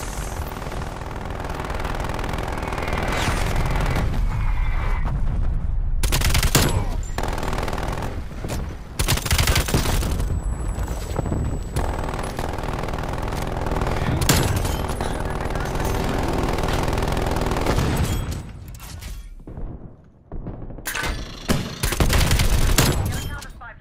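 Sentry turret and automatic weapon fire rattle through a Call of Duty Black Ops match, with long bursts of rapid shots, short gaps and renewed volleys, loud and close, with a voice speaking at times.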